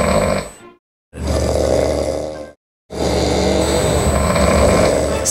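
Heavy snoring from a person, three loud rasping breaths close by, each a long rough rumble separated by short silent gaps.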